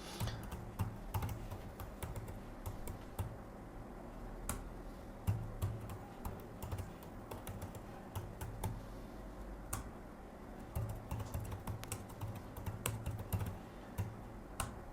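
A computer keyboard is typed on in a quiet room, with steady, soft, close key clicks in irregular bursts and short pauses, and no voices.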